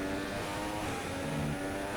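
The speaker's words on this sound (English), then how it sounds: "You can just hear the growling sound of Alonso's car right now" The engine of a Formula 1 car in the F1 2016 racing game at the German Grand Prix, a steady, tonal growl with layered harmonics that holds at an even, moderate level throughout.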